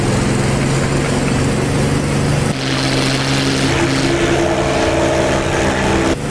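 Bf 109 propeller engine in a flight video game, running as a steady loud drone with a strong low hum, shifting pitch partway through as the prop overspeeds and rising tones climb later.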